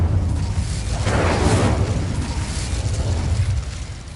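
Casting the Incendio fire spell in Hogwarts Legacy on PS5 gives a loud, close whooshing fiery burst that swells into a deep rumbling roar, then slowly fades away.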